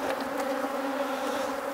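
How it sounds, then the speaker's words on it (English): Bees hum loudly and close at an opened hive fitted with a pollen trap, a dense, steady drone of many insects with a few individual buzzes flaring up, no voices. "So we'll just knock the bees off and remove that."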